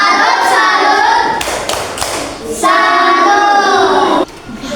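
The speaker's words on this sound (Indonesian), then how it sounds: "Oke, tepuk salut. Salut, salut." A classroom of pupils performs a rhythmic 'tepuk salut' clapping chant, loud close claps in quick patterned bursts mixed with children's voices chanting along.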